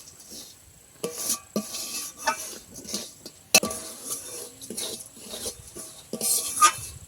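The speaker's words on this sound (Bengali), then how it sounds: "এবার সুজিটাকে হালকা লাল করে একটু ভেজে নেবো" Semolina being dry-roasted in a pan for gujiya filling, with a spoon scraping and clinking against the metal in irregular strokes, close and fairly loud, a few sharp knocks standing out.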